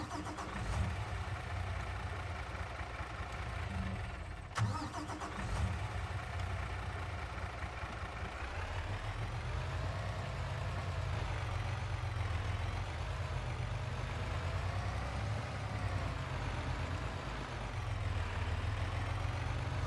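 Mack truck engine in Farming Simulator 22, a steady deep idle rumble with a brief start-up jolt, holding a loud continuous low drone with slight rises in revs throughout.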